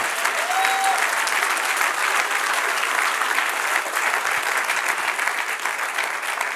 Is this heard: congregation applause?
yes